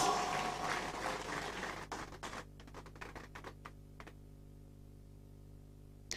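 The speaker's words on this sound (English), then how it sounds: "Please, let's give him another round of applause." Applause for an elder statesman at a 25th Nigeria Democracy Anniversary dinner, dense and fairly faint at first, then thinning after about two seconds into scattered individual claps that trail off.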